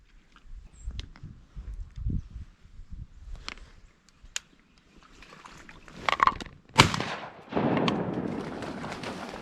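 Shotgun blasts ring out during a duck hunt over a flooded Arkansas rice field, a few sharp reports spaced irregularly amid outdoor rustle and splashing, one shot louder and closer than the rest.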